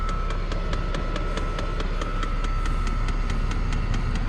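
A Chinese diesel heater runs outdoors in cold weather with a steady, dense whirring roar and a low hum, punctuated by evenly spaced rapid ticks about four times a second, close and constant throughout with no talking.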